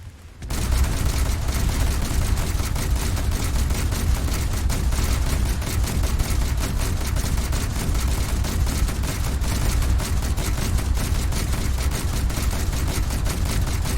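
Rapid-fire guns blaze in War Thunder, a dense, continuous stream of loud gunfire with booming low thuds under the chatter, kicking in abruptly after a brief silence and sustained throughout.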